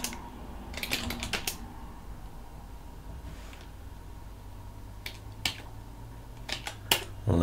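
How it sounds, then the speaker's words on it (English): Quiet typing on a computer keyboard, close and sparse, with short bursts of key clicks separated by pauses. "Let's see if I can type something."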